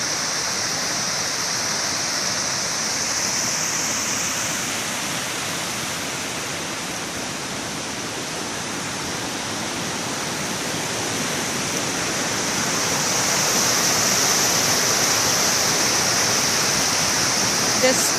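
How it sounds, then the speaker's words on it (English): A river waterfall of about a thirty-foot drop roars steadily, a broad, constant rush of falling water that swells slightly toward the end, with no other sounds standing out. "So it's quite the beautiful fall."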